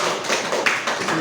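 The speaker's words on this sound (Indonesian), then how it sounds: "Tepuk tangan dulu untuk kita semua" Dense, steady applause from a roomful of teachers at a school training session on positive discipline, loud and close throughout the short burst with no voices over it.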